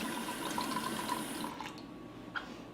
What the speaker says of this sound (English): And then about a half a cup of water.